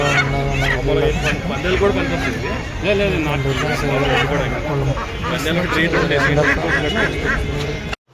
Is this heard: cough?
no